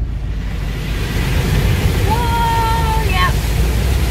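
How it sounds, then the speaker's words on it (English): Car driving through deep flood water in a flooded historic downtown after record rainfall, with a loud continuous rushing, surging wash close to the microphone and a brief voice over the noise. "we drove through that water"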